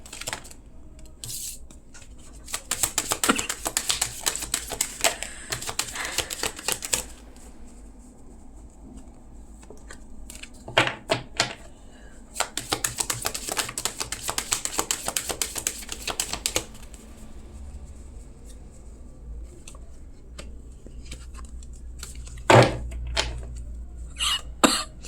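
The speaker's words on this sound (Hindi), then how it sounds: "Let's shuffle the cards for you." Tarot cards are shuffled up close in several bursts of rapid, crisp riffling and flicking, separated by quieter pauses and a few soft knocks.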